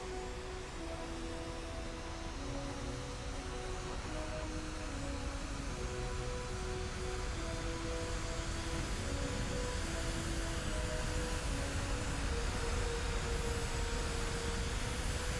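Rocket engine roaring at full thrust in a spaceflight video game, a steady loud broadband rumble holding for the whole stretch with layered tonal game music running underneath.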